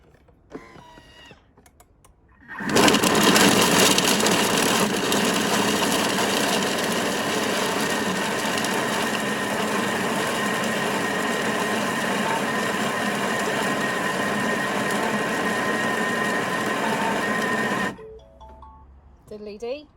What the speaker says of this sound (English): All that cheese, we're going to grate that in 15 seconds at speed